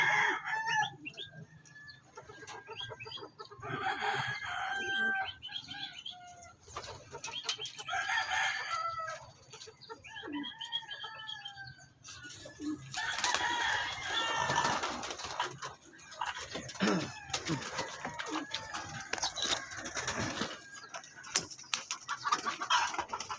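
Racing pigeons let out of a home loft after a race: many birds cooing and flapping, with roosters crowing and chickens clucking nearby, dense and continuous outdoors.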